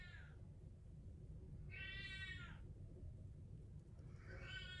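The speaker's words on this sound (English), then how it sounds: "I have a complaining cat." A pet cat meows in complaint three times, the drawn-out cries spaced about two seconds apart over a steady low background hum, fairly close but soft.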